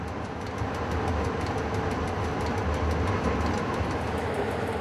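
A train runs steadily along a Balkan railway line in the former Yugoslavia, a continuous loud rumble with a rhythmic clatter of wheels on track, heard from on board or close by.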